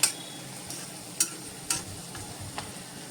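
Onion sautéing in a pan until translucent, a steady faint sizzle under a few sharp clicks and scrapes of stirring spaced across the clip, with no voices.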